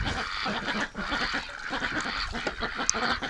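Several ducks quack and honk close by at a water tub in a backyard flock, overlapping calls in quick, irregular bursts.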